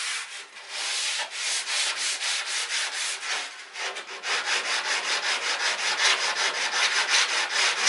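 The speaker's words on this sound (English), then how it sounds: "Sanding wood smooth, smooth." Wood is hand sanded smooth with steady back-and-forth rubbing strokes, a dry rasping scrape repeating in an even rhythm, close and alone with no talk.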